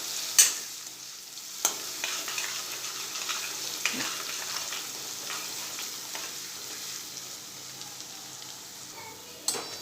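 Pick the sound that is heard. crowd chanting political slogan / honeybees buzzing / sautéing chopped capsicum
sautéing chopped capsicum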